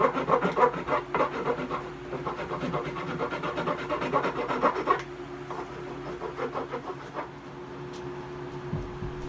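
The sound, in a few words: shaping a wooden shillelagh with chisels and rasps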